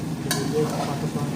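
A mixed vegetable dish with potatoes and aubergine stirred in a pan, a close, steady sizzle with a spatula scrape over it.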